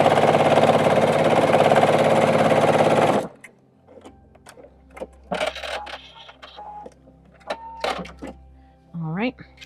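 A sewing machine stitches quilt pieces in a steady, fast whirring run for about three seconds, then stops, leaving small handling noises and a voice talking.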